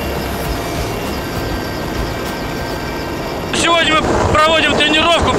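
Rescue helicopter hovering during an emergency ministry drill, a loud, continuous rotor roar buffeted by wind, growing louder and rougher partway through.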